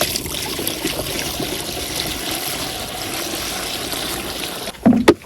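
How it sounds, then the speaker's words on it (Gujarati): Water pours steadily into a pesticide sprayer tank on a farm, a continuous close splashing trickle that ends with a few sharp knocks and bumps. "આમાં પાછું પાણી નાખીશું"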